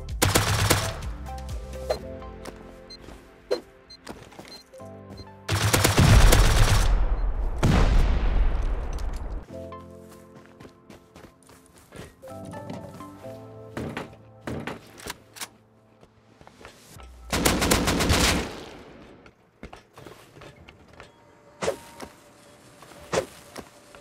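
Automated turrets in Rust firing in several loud, sustained bursts of rapid gunfire, separated by quieter stretches of clanking and ambient noise, with no talking.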